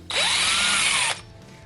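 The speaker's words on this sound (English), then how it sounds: "So the drill doesn't have a tip anymore, so it just runs everywhere." Power drill running with a badly resharpened bit, a single loud, high whine lasting about a second, rising briefly at start-up then cutting off abruptly, close and alone.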